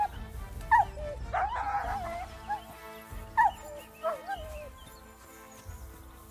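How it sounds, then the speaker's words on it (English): A dog in the medieval video game Kingdom Come: Deliverance 2 gives short yips, barks and whimpers in scattered bursts over a low ambient game background. "Mutt! Here, Mutt!"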